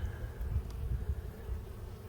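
Honey bees buzzing at a breeder hive entrance in March, a steady low, dense drone with slight swells, close by and continuous with no talk.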